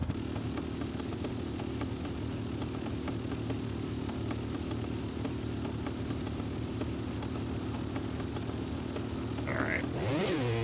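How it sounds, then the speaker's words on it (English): Steady, loud motorcycle engine drone held at high revs in the MX vs. ATV Legends video game, running continuously with a brief rising rev burst near the end. "with how much we're over-revving the motor,"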